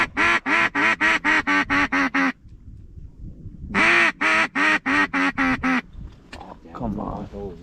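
Ducks calling near a freezing lake shore during a public-land duck hunt, with mallards nearby: two close bursts of rapid, rhythmic quacking calls separated by a short pause, followed by fainter scattered sounds.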